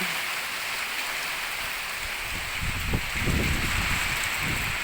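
Steady rain hissing with gusts of wind rumbling in, a continuous wash of noise that swells slightly toward the end, in Phu Sang District, Phayao, Thailand.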